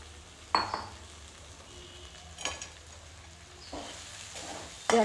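Sabudana stir-fried in a pan, a quiet steady sizzle punctuated by four sharp scraping strokes of a spoon against the pan, close-up with no voices.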